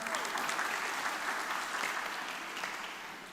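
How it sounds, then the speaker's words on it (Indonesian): Steady applause from a crowd, moderately loud at first and gradually fading toward the end, with no talking. "Tepuk tangan buat beliau."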